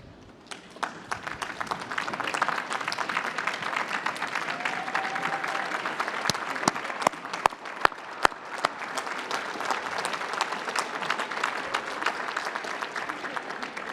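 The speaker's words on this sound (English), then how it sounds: "I applaud you." A commencement crowd applauds as graduates stand, sustained dense clapping rolling on steadily, with a few sharper, louder claps standing out near the front, fairly full and close throughout.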